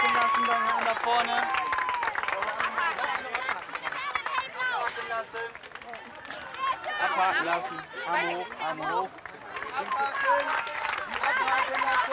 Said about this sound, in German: Applaus da vorne. Da vorne.